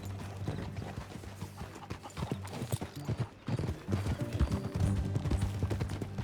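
Horse hooves clip-clopping at a steady riding pace in the video game Red Dead Redemption 2, with low rumbling and occasional snorts underneath, continuous throughout.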